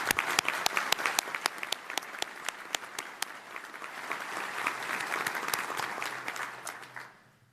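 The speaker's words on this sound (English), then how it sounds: "Let's give them all a round of applause" Audience applause at a 2019 Burlsworth Trophy football awards ceremony: dense clapping with sharp individual claps standing out, sustained for several seconds before fading away quickly at the end.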